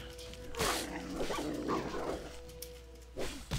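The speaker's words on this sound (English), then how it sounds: "I don't like this puppy. This puppy's evil." A puppy-like dog enemy growls and yelps in World of Warcraft, a few rough bursts over steady game background, with a faint voice underneath.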